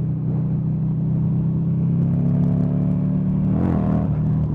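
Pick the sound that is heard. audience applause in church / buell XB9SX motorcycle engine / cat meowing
buell XB9SX motorcycle engine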